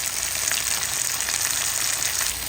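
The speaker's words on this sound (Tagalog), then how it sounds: "Ginigisa ko na po together with our chicken." Chicken sautés with garlic, ginger and onion for adobo, giving a loud, continuous close sizzle and crackle that fills the whole moment without pause.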